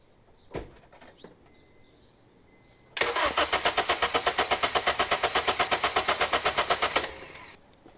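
A turbocharged Honda Civic engine goes to wide open throttle: after a few knocks and clatters, a loud, harsh roar cuts in suddenly and holds for about four seconds with a fast pulsing beat, then drops away.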